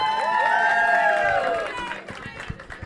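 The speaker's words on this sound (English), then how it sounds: "Round of applause for Kim, everybody." Studio audience cheering and whooping in a loud, excited burst at a dating show, shrill voices rising over clapping, then fading into scattered claps and chatter after about two seconds.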